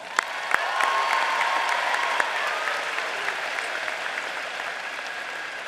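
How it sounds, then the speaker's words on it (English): Graduates and the audience at a high school commencement ceremony break into a large round of applause, a broad sustained wash of clapping in a big space with a few sharp individual claps and faint cheers. "give yourselves and everyone around you a well-deserved round of applause"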